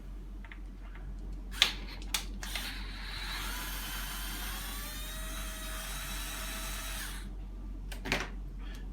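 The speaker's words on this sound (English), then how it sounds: "You're going to need to remove this screw here." Small power screwdriver removing a screw from a Bugaboo Donkey/Buffalo stroller handle bar: a few clicks, then a steady whirring motor for about four seconds rising slightly in pitch, close and fairly loud, ending with another click.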